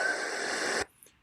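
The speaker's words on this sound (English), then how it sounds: "that is the sound of a guardrail cooling down at night, at dusk" A roadside guardrail cooling at dusk gives off a burst of broadband crackling noise that stops abruptly, leaving near-silence with a faint tick.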